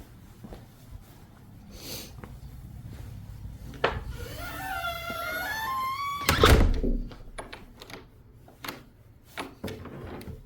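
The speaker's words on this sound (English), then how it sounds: "I guess I should shut the door." A door is shut inside a rental apartment in Charleston, South Carolina. A rising, creaky tone comes first, then a single solid wooden thud near the middle, followed by faint shuffling and light knocks in a quiet room.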